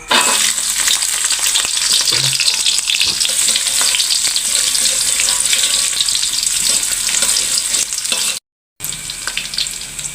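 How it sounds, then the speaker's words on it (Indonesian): Bitter gourd, shallots and garlic stir-frying in a pan with shrimp paste seasoning nearby: a loud, steady sizzle with scraping stirs running throughout, briefly cut out near the end. "sekarang kita numis pare, bawang merah, bawang putih"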